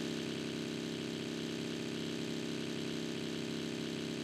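Buggy engine in the BGMI mobile battle royale game, a steady, even mid-pitched drone with no pauses, moderately quiet and heard alone without talk.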